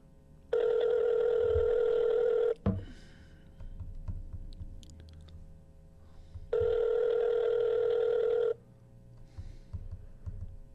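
A call placed to a cell phone: two long, steady electronic ringback tones separated by a sharp click, with soft background rustle and thumps between the rings.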